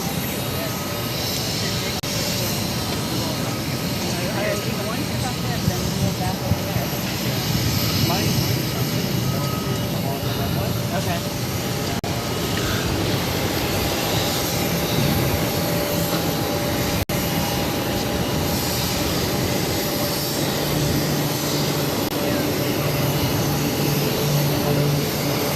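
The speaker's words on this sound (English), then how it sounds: "This is United Airlines 2400 taking off to San Francisco on a MAX 9" A United Airlines Boeing 737 MAX 9 jet takes off at Boston Logan, a loud, steady, broadband engine roar sustained throughout, with radio chatter heard beneath it.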